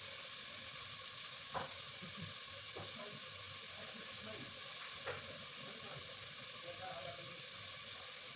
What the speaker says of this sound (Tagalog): Ayan, ating mix.